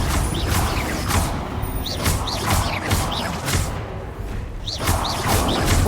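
Confringo blasting spells cast in the Hogwarts Legacy video game, a loud rhythmic series of fiery bursts, whooshes and impact thuds over dense combat noise, repeating roughly every half second.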